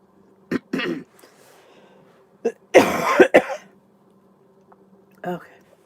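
A person coughs in several short bursts, a couple of quick ones early, then a louder harsher fit in the middle and a final cough near the end, close and indoors with quiet gaps between.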